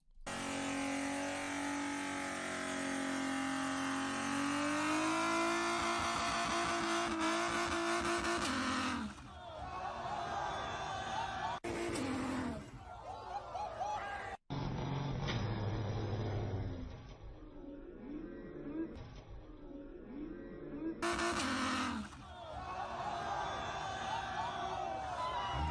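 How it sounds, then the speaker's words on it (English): A car at a car meet attempting a burnout, its engine revving hard and steady while the clutch slips, loud and close with crowd noise around, then cutting out and surging again in bursts. "who thinks he's ripping a fat burnout, and sadly, the only thing he's ripping is his clutch"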